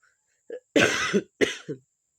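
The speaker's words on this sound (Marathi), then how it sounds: "सर्दीमुळे मला जाम खोकला लागलेला आहे खोकला कमी होत नाही" Several harsh coughs close by from a cold, a short one followed by a long rough burst, then two more in quick succession, with no talking.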